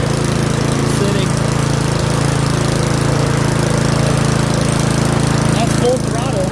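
A Yard Machines 179cc snowblower engine, a curbside find, roars at full throttle in a loud, steady, unbroken drone with a rough mechanical chatter that holds even throughout.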